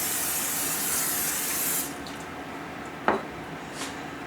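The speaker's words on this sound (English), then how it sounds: "All you gotta do is hit it with a little spray oil" A brief hiss of cooking oil spray onto a pizza pan fades out, followed by quiet with a soft clink of metal and a faint tap.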